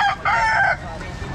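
A Sweater gamefowl rooster for sale at the Calumpit pet market gives a loud, close crow that stops partway, followed by quieter market background.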